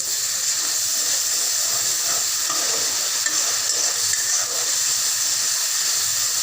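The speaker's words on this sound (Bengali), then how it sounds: "এখন আমি দিয়ে দেবো 1 টেবিল চামচ রসুন বাটা।" Garlic paste sizzles loudly in a pan of fried onions, a steady, dense frying hiss with soft stirring scrapes, close and continuous without voices.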